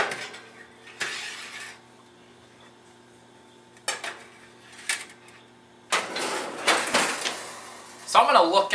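Cupcake pans are set on an oven rack in a home kitchen, giving several short metallic clanks and scrapes in bursts with quiet gaps between them, close by, along with sounds of oven handling.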